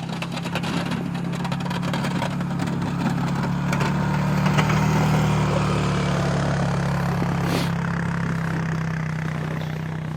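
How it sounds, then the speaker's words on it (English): A snow machine's engine runs steadily in deep snow, a constant mid-pitched drone holding at an even level throughout with a faint rattle over it, no voices. "This is the only way to move around, to get around with all this deep snow, is to use the snow machine"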